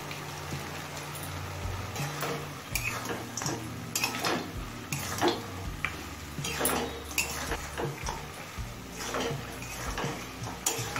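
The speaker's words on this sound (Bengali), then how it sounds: "বড়ি আর বাদামটা মিশিয়ে নিয়েছি।" Fried peanuts and broken lentil dumplings being stirred into mustard greens in a pan: repeated scraping and clinking of a spatula against the pan, irregular and fairly close, with no voices.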